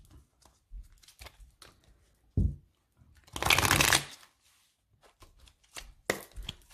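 Tarot cards being shuffled and cut for a Capricorn horoscope reading: scattered soft card flicks and taps, then one sustained riffling burst and a final sharp flutter, heard close up with no talking.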